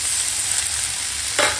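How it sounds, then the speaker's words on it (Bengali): Vegetables sizzle steadily in a pan with a ginger, garlic and cumin paste, for a Bengali rohu fish head curry with Malabar spinach, eggs and potatoes; one short, louder scrape of stirring comes near the end. "মশলার সঙ্গে একটু সময় কষিয়ে নেবো সবজিগুলোকে"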